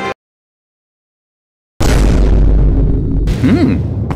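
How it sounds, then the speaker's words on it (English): A loud boom erupts in the Minecraft video game after a brief pop and silence, followed by a sustained roaring rumble and a short rising-falling tone near the end. "I think I heard an explosion in the living room."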